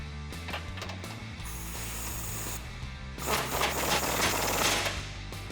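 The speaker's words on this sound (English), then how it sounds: "Now we can align this bumper and tighten it back down with the 21mm socket." A ratchet with a 21mm socket tightening a bolt on a heavy-duty front bumper of a 2015-2017 Ford F150, giving close, rapid clicking bursts with a louder stretch of busy mechanical clatter partway through.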